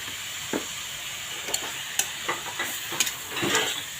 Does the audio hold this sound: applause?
no